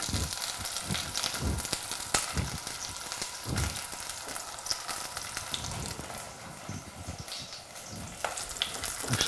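Eggplant frying in oil in a pan for Afghan spicy braised eggplant, a steady close crackling sizzle with scattered pops and clinks throughout, no voices.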